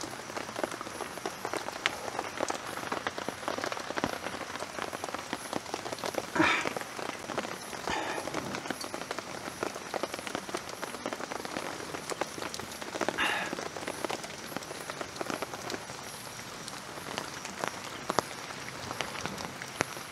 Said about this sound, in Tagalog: Kung narinig nyo yung lagkapak ng ulan sa ating canopy tent, malakas po.